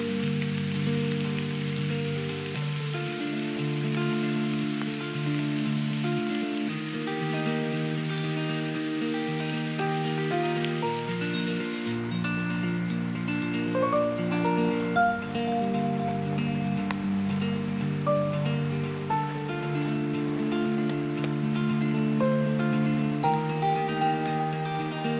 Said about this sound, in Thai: เพราะว่าฝนค่อนข้างจะหนาเม็ดมาแล้ว